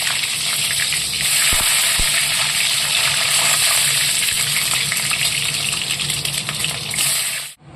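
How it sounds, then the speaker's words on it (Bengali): Eggs fry in hot oil for egg curry, giving a loud, continuous crackling sizzle that runs steadily for several seconds and then cuts off abruptly, with no one speaking. "তেল গরম করে হয়ে গেছে, এবার দিয়ে দেবো ডিমগুলো"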